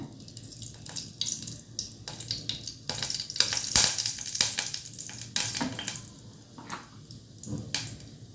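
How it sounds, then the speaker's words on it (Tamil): Oil poured into a hot dry kadai bursts into sizzling and crackling, rising and falling in loud irregular surges with sharp spits, heard up close without speech. "இப்போ சட்டி காஞ்சிருச்சு. நான் வந்து கொஞ்சமாக எண்ணெய் விட்டுக்கிறேன்."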